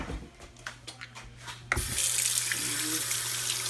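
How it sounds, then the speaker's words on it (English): A kitchen tap is turned on to rinse a dry measuring cup, giving a steady rushing stream of water after a few soft handling knocks and clinks. "make sure you rinse it off."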